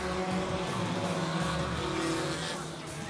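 Race cars in an Outlaw Mini feature accelerate hard off the green flag, a loud, dense engine roar from a close pack with a brief squeal of tires, steady throughout before easing slightly at the end.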